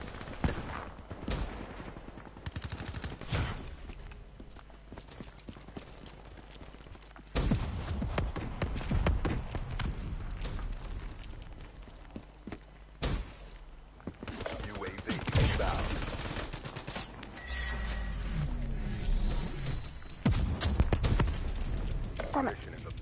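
PPSh submachine gun fire in Black Ops 3, heard as bursts of rapid shots mixed with other game effects and mechanical sounds, loud and nearly constant, with a person talking over the action.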